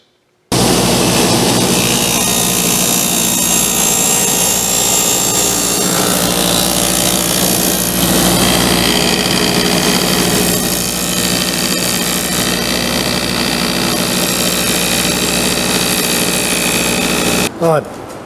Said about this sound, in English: Now I do some sanding